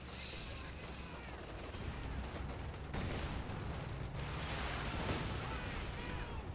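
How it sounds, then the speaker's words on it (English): Dense, continuous battlefield din from a Company of Heroes 2 artillery barrage in a 2v2 match, with overlapping booms and crackling impacts that swell louder around the midpoint and keep rumbling steadily to the end. "so I knew that barrage was coming in, so retreated my guys, pull back"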